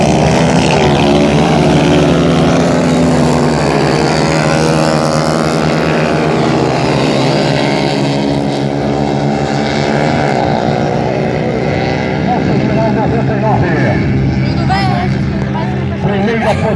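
CAT 150 racing motorcycles at a motovelocidade race in Caçapava do Sul pass on the track with a loud, continuous engine drone that rises and shifts in pitch as they go by, with an announcer talking over the noise throughout.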